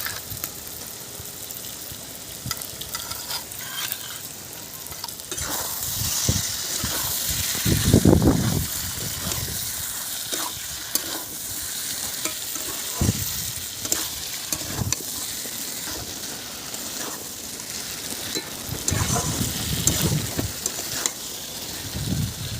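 Small cut pieces of snakehead fish frying in hot spiced oil, a steady loud sizzle with repeated scraping and stirring strokes throughout, no voices.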